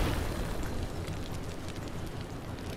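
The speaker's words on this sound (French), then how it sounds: "Ah ouais, une petite grenade au-dessus, là, tu vois. Et avec l'explosion du." A grenade explosion in the game Worms WMD, a broad rumbling blast whose roar fills the whole clip and slowly decays without a sharp onset.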